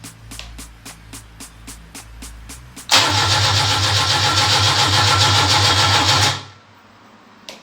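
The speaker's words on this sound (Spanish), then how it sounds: "le hice girar el motor 3 veces por unos segundos" A Fiat engine sitting outside the car during a restoration is cranked by its starter, chugging in quick even pulses before a loud, steady roar holds for a few seconds and cuts off abruptly.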